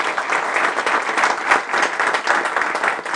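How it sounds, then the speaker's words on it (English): An audience at a lecture on the Insolvency Act applauds the chief guest, with dense sustained clapping from many hands, loud and even throughout. "if you could please put your hands together."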